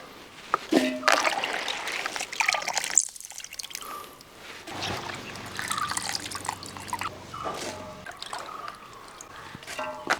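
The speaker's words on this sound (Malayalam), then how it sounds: "ഇനി നമുക്കിത് ഒന്ന് കഴുകി വൃത്തിയാക്കിയെടുക്കാം." Cauliflower is being washed in a bowl of water. Splashes and drips come in bursts, with a brief silent gap and some soft handling noises.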